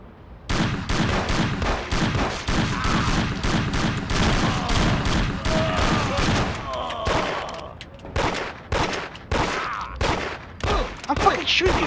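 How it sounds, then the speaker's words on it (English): Gunfire in the video game Mafia: a long run of loud, rapid shots that thins into scattered single cracks and booms, with some talk in the background. "I'm fucking shooting you, take damage!"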